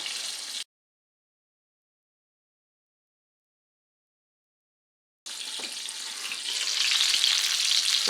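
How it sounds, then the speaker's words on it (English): Brussels sprouts frying in grease inside a lidded pan, a steady broadband hiss that cuts out briefly and then returns louder and denser, close and without talk. "Now you just leave them in there and let them fry for a little bit."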